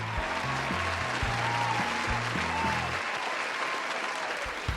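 A studio audience applauds a guest professor on a French talk show, dense steady clapping filling the whole stretch, with a low musical jingle playing underneath for the first few seconds.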